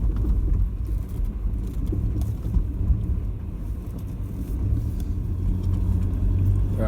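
Vehicle climbing a hill on a slippery track after rain, its engine a steady low rumble close by, with road noise holding constant throughout.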